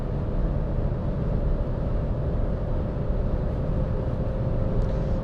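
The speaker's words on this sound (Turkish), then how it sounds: "Şu an mesela yalıtımda da biraz rüzgar sesi var, yol sesi az var, biraz da motor sesi var" Renault Clio 5 with a 1.0 SCe engine cruising at 132 km/h, steady cabin drone of wind rush, light road noise and a low engine hum, continuous and even throughout with no talking.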